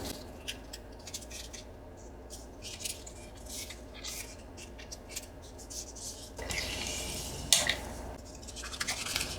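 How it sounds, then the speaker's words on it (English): Junk mail paper strip folded in half lengthwise, giving soft, close rustling and rubbing sounds in irregular strokes, with a louder crinkle near the end and no voices. "Then fold it in half the long way again."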